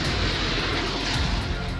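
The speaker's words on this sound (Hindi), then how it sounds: "भारतीय वायुसेना के लड़ाकू विमानों की आवाज से आसमान गूंज उठा।" Indian Air Force fighter jets, including Rafale and Tejas, roar overhead during an Air Force Day dress rehearsal, a loud steady broadband rumble filling the sky with no voices.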